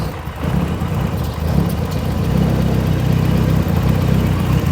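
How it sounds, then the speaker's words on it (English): BMW E30 M3 engine idling and running with a loud aftermarket exhaust, a steady low rumble that holds evenly throughout at close range, no talking. "Engine sounds good."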